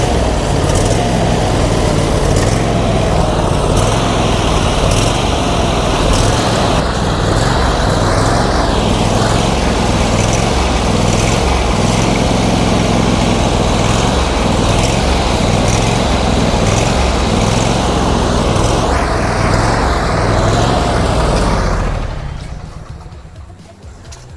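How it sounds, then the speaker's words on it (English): A Briggs & Stratton V-Twin engine on a Pool & Pro mower runs loud and close for over twenty seconds with a rough, pulsing idle that rises and dips, then cuts off abruptly near the end. "the surging engine on this Pool & Pro"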